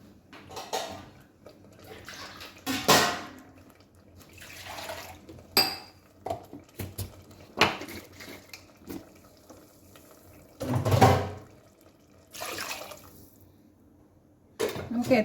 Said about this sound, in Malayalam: കുറച്ച് ചൂടുവെള്ളം ഒഴിക്കാം,